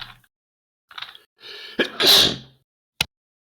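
A few soft breaths build into a single loud, close sneeze, followed by a brief quiet click.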